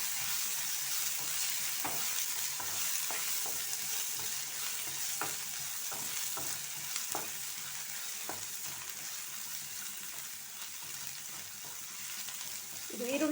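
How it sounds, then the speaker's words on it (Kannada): Onions fry in a pan for a pumpkin palya with green chilli paste, a steady sizzle broken by repeated scraping and knocking of a spoon as they are stirred, close and moderately loud. "ಫ್ರೈ ಮಾಡಿಕೊಳ್ಳುವ."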